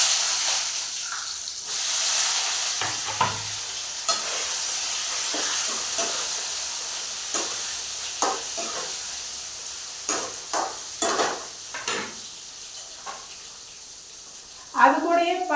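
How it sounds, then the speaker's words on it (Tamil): Onion, dried red chilli, two garlic cloves and a tomato sautéing in a pan, giving a soft sizzle with intermittent stirring scrapes and clanks while a voice talks over it. "வெங்காயம், வரமிளகாய், ரெண்டு பல்லு பூண்டு, ஒரு தக்காளி போடுறேன். அதை போட்டு வணக்கிக்கலாம்."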